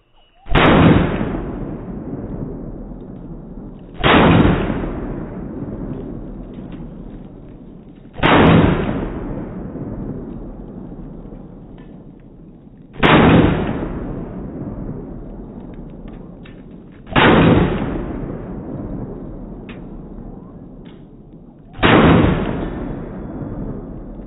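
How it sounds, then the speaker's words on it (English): Six loud, sharp Sig Sauer 1911 pistol shots fired outdoors at jugs, spaced about four to five seconds apart, each with a long fading echo tail. "that was the Sig Sauer 1911"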